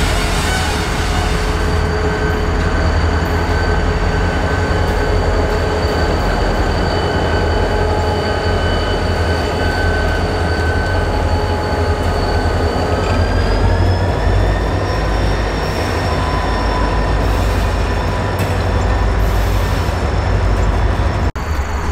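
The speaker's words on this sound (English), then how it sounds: "So they got one of the engines going right now" A Wheeling and Lake Erie EMD diesel locomotive, running by remote control with no one in the cab, idles loudly and steadily in a rail yard in Akron, Ohio, its deep engine rumble joined by sustained tonal whines that rise in pitch partway through.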